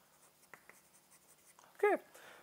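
A marker or chalk writes on a board in a lecture hall, with a few short taps and strokes and then one louder squeaky scrawl near the end, set against quiet room noise.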